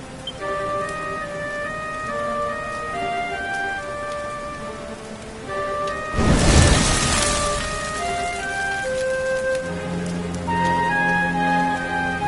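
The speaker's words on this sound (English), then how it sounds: "Looks like the rain's dying down" Rain in the video game Dragon Quest XI, a soft continuous patter under melodic game music, with one louder rushing surge of rain or thunder in the middle before it settles back.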